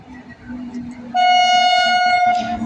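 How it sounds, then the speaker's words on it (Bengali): The Kolkata Sairang Express pulls into a station platform with a low rumble, then sounds a loud, sustained horn blast close by for over a second amid platform murmur. "বলতে বলতে চলে আসছে কলকাতা সাইরাং এক্সপ্রেস।"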